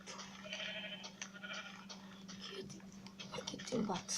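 Minecraft sheep bleating, several wavering calls close together over a steady hum, with a voice talking softly at points.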